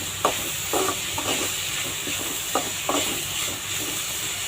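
Onions sauté in a pan for an egg podimas, a steady moderate sizzle with several short bursts of spatula stirring and scraping close by, nobody talking.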